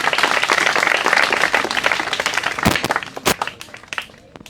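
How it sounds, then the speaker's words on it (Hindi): Crowd applause at an outdoor tree-planting event in Karsindhu village, Haryana, with dense clapping that thins into a few scattered, distinct claps near the end. "इनके लिए जोरदार तालियां एक बार फिर से बनती हैं"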